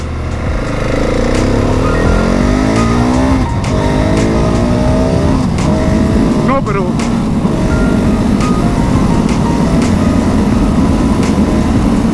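A Husqvarna 701 Supermoto motorcycle accelerates, its engine note sweeping upward through gear changes before settling into a steady loud drone, with wind rush and a rider talking over it.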